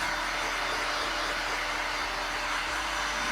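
A heat gun blows a steady, loud, broadband rushing hiss with no breaks while it warms vinyl wrap on a car.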